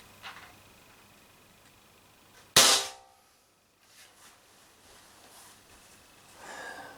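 Power-tuned Umarex TB68 air gun with the valve block and restrictor removed fires one sharp, loud shot that cracks and then fades quickly, with a quiet room before and after.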